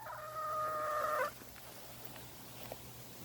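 A chicken gives a short, drawn-out squawking call that lasts about a second and then stops. Faint farmyard background noise follows, with a few small clucks.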